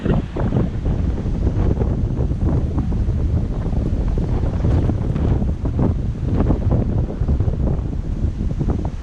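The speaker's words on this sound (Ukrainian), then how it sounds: "тут так дує" Strong wind roars across the microphone on a reservoir shore in Ukraine, a loud, constant buffeting rush with gusting swells and no talking.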